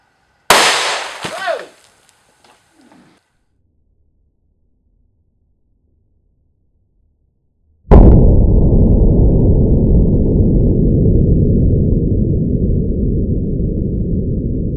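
Two sharp gunshot cracks from .22 and .25 auto pistols fired during an indoor comparison test: the first bang decays quickly, and the second, about seven seconds later, is followed by a loud, steady rush of noise.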